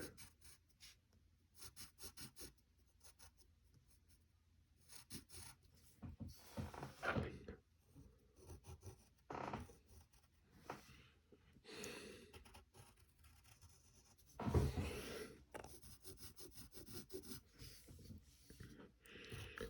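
A pencil sketches Lola Bunny from Looney Tunes on paper in quiet, close scratching strokes, short bursts of rubbing and scraping separated by brief pauses.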